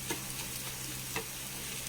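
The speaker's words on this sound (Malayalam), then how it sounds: "അതും കൂടി ചേർത്ത് നല്ലോണം ഇളക്കി കൊടുക്കാം." Grated boiled egg being stirred into samosa filling in a pan, a soft continuous frying hiss with a couple of faint scrapes from the spoon, quiet and close, no voices.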